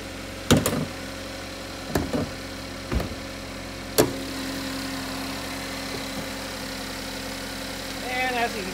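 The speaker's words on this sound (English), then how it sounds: "I'm going to go ahead and fire up the engine here" A 2017 Chevrolet Equinox with a 2.4-liter four-cylinder starts and settles into a steady idle after a few sharp clunks, a low even hum running close by with no talking over it.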